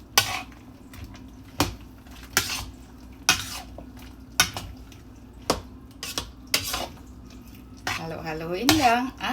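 Macaroni fruit salad with raisins being stirred in a bowl, a spoon knocking against the sides in sharp, regular clinks spaced about a second apart, close up, with a voice speaking briefly near the end.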